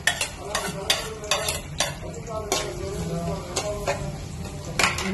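Sliced onions frying in a pan with salt, a low continuous sizzle under frequent sharp clinks and scrapes of a spoon stirring against the pan, close and moderately loud.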